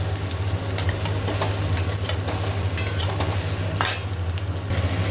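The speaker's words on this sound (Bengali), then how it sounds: "এই কপিগুলো দিয়ে ভালো করে ভাজা করছি" Cauliflower florets frying in a pan, giving a steady close sizzle with scattered scrapes and clinks of stirring throughout, no voices.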